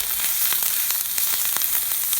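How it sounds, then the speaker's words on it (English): Steady, close sizzling of leeks on a hot charcoal grill, a dense crackling hiss with scattered sharper pops throughout. "Can you hear that sizzle?"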